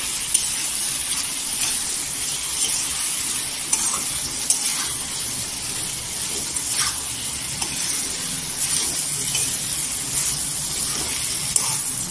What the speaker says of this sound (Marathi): इथे तेलावर मसाले आहे ते छान असं परतून घ्यायचं.